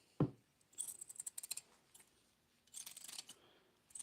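Scissors snip through a sheet of carbon fiber while cutting out a small circle, with a sharp clack at the start followed by several close, quiet clusters of short cutting snips and brief pauses.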